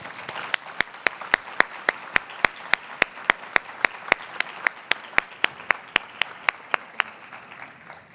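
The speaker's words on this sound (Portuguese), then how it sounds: "pedindo a todos uma calorosa salva de palmas para os nossos painelistas" Steady applause from a conference audience for a panel of speakers, with sharp individual claps standing out in a regular rhythm over a softer wash of clapping.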